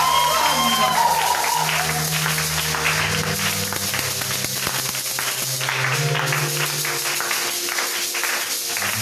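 A church congregation claps and cheers in continuous, dense applause during worship, with music and voices mixed in throughout.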